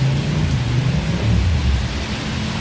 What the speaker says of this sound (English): this is a typical rainfall during the rainy season in Bangkok